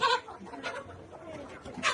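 Laying hens cluck softly in a poultry farm, brief quiet calls spread across a couple of seconds with a faint murmur of a voice.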